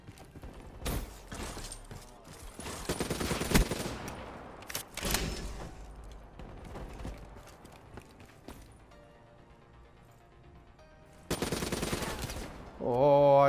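Gunfire in Call of Duty: Black Ops III, several separate bursts of rapid shots, loud and close, with quieter gaps and game sounds between them.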